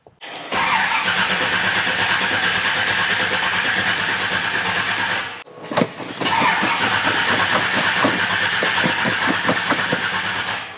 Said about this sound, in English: So let's see if we can get her fired up.